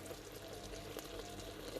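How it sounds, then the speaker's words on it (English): Cooking wine, about a cup, poured into a pork belly braise with chopped spring onions: a steady, close liquid pour running continuously without a break, with no talk over it. "now I'm going to add 1 cup of cooking wine"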